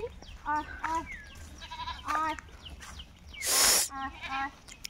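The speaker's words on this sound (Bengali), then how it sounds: "এই যেমন দেখো আমাদের ছাগলগুলোকে ডাকছি," Several goats on a farm bleat in short wavering cries, one after another, fairly close, while a person calls to them with a brief sharp hissing call in between.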